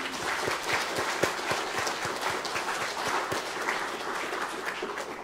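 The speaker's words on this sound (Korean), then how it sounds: "하나님께 영광의 박수를 한번 올리겠습니다." A Korean church congregation applauds in praise to God during an ordination service, a full, even roar of many clapping hands with scattered sharper claps standing out, steady and close.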